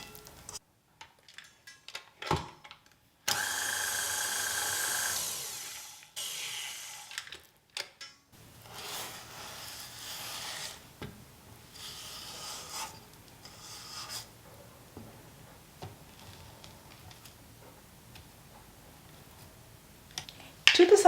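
Biscuit dough for nankhatai being mixed until creamy in a bowl, with scraping down the sides: steady rasping and rubbing with scattered clicks and knocks throughout, close by, with no talk.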